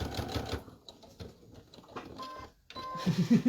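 A sewing machine lock stitches through several layers of fabric for an accordion pouch, running in short close bursts with brief pauses between them.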